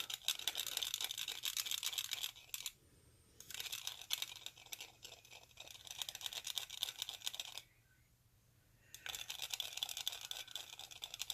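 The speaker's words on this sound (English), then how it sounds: "I have a plastic chopstick, and I am just going to stir until it's dissolved." A plastic chopstick stirs a bath bomb mixture until it dissolves, giving a fast, gritty scraping and clicking against the container in close, continuous bursts with two short pauses.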